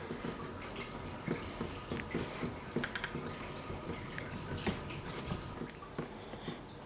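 Water drips and trickles off a wet whetstone during sharpening of a Mora Kansbol knife, a steady patter of small ticking drops close by with occasional scraping.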